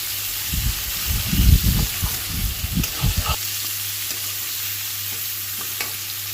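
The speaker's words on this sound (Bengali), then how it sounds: "পেঁয়াজ কুচি দিয়ে নাড়াচাড়া একটু ভাজা ভাজা হবে" Chopped onion stirred and fried in a pan for a chicken dish, a steady close sizzle with scraping stir strokes for the first three seconds, then only the continuous hiss of frying, with no talking.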